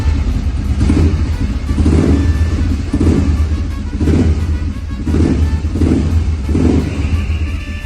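Vintage Royal Enfield motorcycle engine running close by, a heavy thumping idle with rhythmic swells roughly every second, loud and steady with no talk over it.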